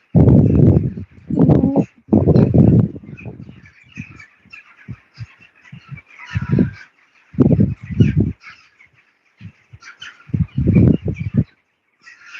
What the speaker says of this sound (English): Lots of birds trying to find somewhere to sleep in the trees.